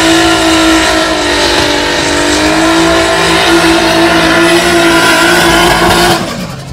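A turbocharged 2500cc BMW E36 show car doing a burnout, its engine held at a loud, steady high rev with a whining tone that drops away abruptly at the end, close and alone.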